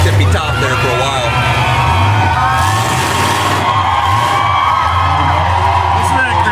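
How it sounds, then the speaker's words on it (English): Crowd at a demolition derby roaring and cheering continuously, a dense wash of whoops and yells over a low steady engine drone from the arena, loud throughout. "Listen to that crowd."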